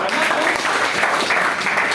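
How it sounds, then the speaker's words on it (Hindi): Full, steady applause from a seated audience at a Hindi-language talk, many hands clapping together in a thick, even roar that fills the short stretch, with possible murmurs of voices mixed underneath. "चलिए आपके लिए ताली हो"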